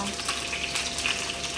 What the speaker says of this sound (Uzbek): Bunda grunchimizni alohida qovurib olaman.